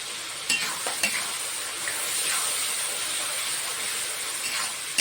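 Ground spices with ginger-garlic paste fry in a pan for chicken and lentil biryani, a constant bright hissing sizzle with intermittent knocks and scrapes of a stirring spoon, close and steady with no talking.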